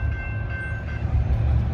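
Amtrak California San Joaquin train 703, a double-header passenger train, passes Blackstone Ave in Fresno with a loud, steady rail roar and low engine rumble, while a faint horn tone rings out early on.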